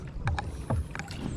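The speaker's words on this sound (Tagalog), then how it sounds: "Tatawid namin dito sa palaisdaan yung bangka para makarating kami doon sa baba ng bahay namin." A boat is moved through high floodwater in a fishpond near a seawall, with soft water sloshing and a few brief knocks against the hull over a steady outdoor background.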